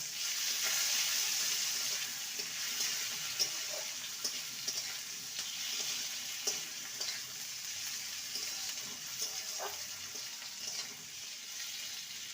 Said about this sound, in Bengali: পেঁয়াজ আর টমেটোকে ভালো করে কষিয়ে নিয়েছি